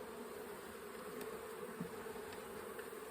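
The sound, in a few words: bees buzzing while being relocated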